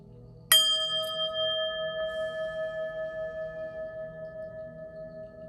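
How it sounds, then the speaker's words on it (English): A single handheld bell is struck once for clearing energy, giving a bright close strike followed by a long, pure ringing tone that wavers and slowly fades over several seconds. "I'm going to ring this bell and clear your energy"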